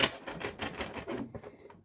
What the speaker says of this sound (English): Now I'm going to shuffle until I feel comfortable